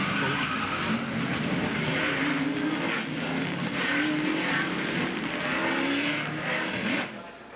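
Stock cars in the 1998 NASCAR Winston Cup race at Richmond International make a loud, continuous roar of engines and track noise with swelling pulses. It runs without break for several seconds and fades slightly at the end.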